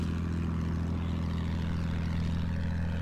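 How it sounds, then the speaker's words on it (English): A propeller-driven attack plane in the World War I shooter Battlefield 1 drones steadily, a loud, unbroken engine hum with a strong low throb that holds for the whole stretch without any talk. "Oh, that's one of those attack planes."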